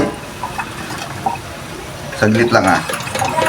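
Tap water runs and splashes as a pot lid is washed in a kitchen sink, rising to a louder steady gush near the end while a person speaks briefly.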